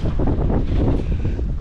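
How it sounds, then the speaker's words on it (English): Strong wind on a houseboat in the Florida Keys buffets the microphone in a continuous low roar, loud and close, with no voices. "It is windy, boy."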